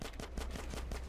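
A quick burst of rapid video-game gunshots, about half a dozen cracks in fast succession, moderately loud with no speech.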